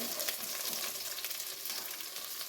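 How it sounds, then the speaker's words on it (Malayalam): Okra sautés in a hot pan with a steady, close crackling sizzle and no voices. "നമ്മളിങ്ങനെ ഇട്ടൊന്ന് വരട്ടിയെടുക്കുന്നത് ഒന്ന് വാട്ടിയെടുത്താൽ മതി"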